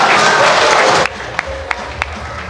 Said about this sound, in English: The President deserves a better round of applause than that.